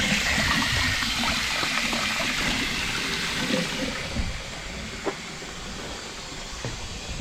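Warm artesian bore water from the Great Artesian Basin gushes and hisses steadily from a pump outlet in outback Australia, a continuous broadband rush with a few faint knocks, no talking.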